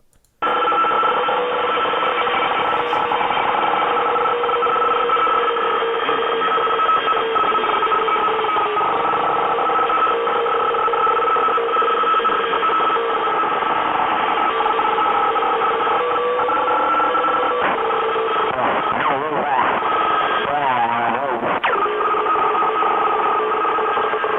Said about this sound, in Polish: posłuchajmy sobie normalny dźwięk od Mangla, jak to leci z szumem